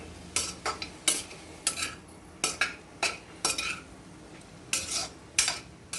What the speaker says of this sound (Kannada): ಚೂರಿ ಗ್ಯಾಸ್ನ ಸಿಮ್ಮಲ್ಲಿ ಇಟ್ಕೊಂಡು ಫ್ರೈ ಮಾಡ್ಕೋಬೇಕು ಈ ಥರ